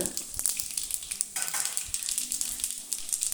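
Mustard seeds, urad dal and peanuts sauté in coconut oil with a spoon of ghee, giving a soft, steady sizzle sprinkled with small crackles and occasional stirring scrapes, fairly quiet and with no voices.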